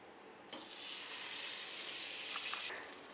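Butter hits a hot pan and breaks into a sudden hissing sizzle that holds fairly steady for about two seconds and then cuts away, quiet and close, with no talking.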